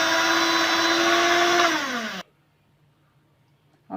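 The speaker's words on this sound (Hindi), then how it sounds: "30 सेकंड के लिए बस मिक्स करूंगी।" An electric hand mixer whirs loudly through cake batter with an added egg, a steady motor whine that dips in pitch before cutting off abruptly, leaving near silence until a brief burst at the end.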